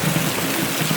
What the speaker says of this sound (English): this is what I call freaking rain